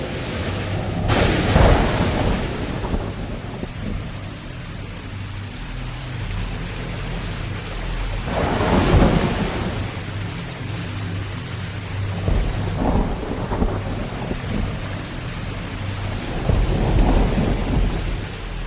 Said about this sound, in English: There's been a tumultuous rain, and it has flooded the whole area.